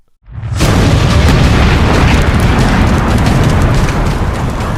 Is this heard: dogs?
no